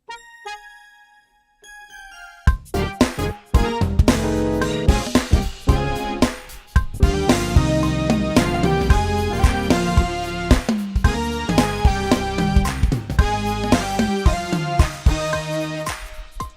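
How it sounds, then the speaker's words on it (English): A bell melody line in a gospel music production rings out in bright, repeating notes over a full band mix with bass and drums, entering after a sparse, quiet opening. "we're going to highlight that bell line right there"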